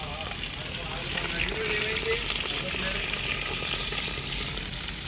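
Steady, dense sizzling of three medium onions with curry leaves frying in hot oil until golden brown, a continuous hiss throughout with faint talking in the background.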